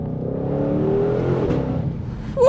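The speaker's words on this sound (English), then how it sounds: "Those downshifts are addicting." A 2020 Shelby GT500 Mustang's engine drones steadily as it downshifts, revs shifting under a continuous loud exhaust note, with a brief sharper burst right at the end.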